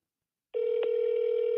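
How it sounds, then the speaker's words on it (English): A telephone call tone starts abruptly after silence and holds as one steady electronic tone with a slight click near its start. "Let's see if we can get somebody on the phone here."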